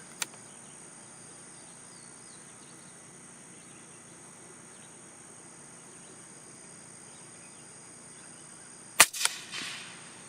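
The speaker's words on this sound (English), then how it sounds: "that was 3 rounds suppressed" A 300 Blackout rifle fitted with a Griffin Armament Optimus silencer fires suppressed shots outdoors. A faint crack comes early, then a sharper loud report near the end, over steady insect and cricket chirping.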